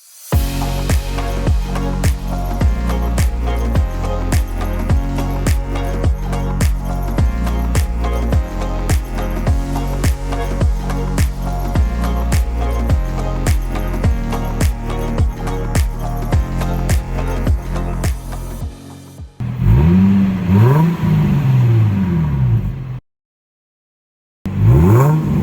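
Car engine fitted with a test pipe in place of the catalytic converter, revving in a long run of sharp, regular bursts, loud and close, then a brief rising and falling rev after a pause.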